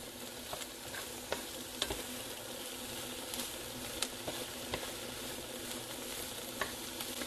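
Chopped onions and asparagus sizzle steadily in a hot pan for ham and asparagus pasta Alfredo, a constant crackling fry with occasional sharper pops and stirring scrapes, close and moderately quiet with no talking.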